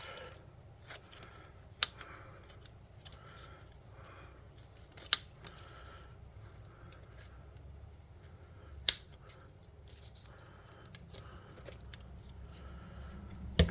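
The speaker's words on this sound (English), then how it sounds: "And we'll just snip around that, cutting that off." Scissors snip around and cut away parts of a craft model of a bullette, a tabletop-game creature, giving quiet, irregular close-up clicks and crisp snips spaced out over a hushed background.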